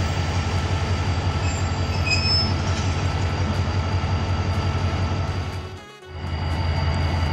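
A Pakistan Railways train stands at Jumma Goth station, its steady low rumble of engine and rolling stock continuous and fairly loud, with a brief dip near the end.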